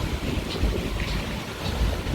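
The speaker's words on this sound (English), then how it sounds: "I can come out here, and it's windy." Steady wind roars across Tulum Beach, Mexico, rushing and constant with low buffeting and a faint hiss of surf beneath.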